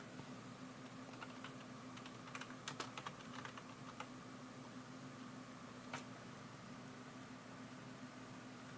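Typing on a computer keyboard: scattered bursts of sharp key clicks, busiest in the middle, over a steady low hum with no talking.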